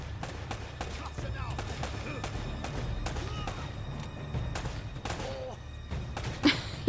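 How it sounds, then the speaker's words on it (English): Scattered gunshots crack in quick bursts in the video game Uncharted: Drake's Fortune, some close and sharp, others muffled, against a low rumbling jungle soundscape. "He barely reacted to that gunshot."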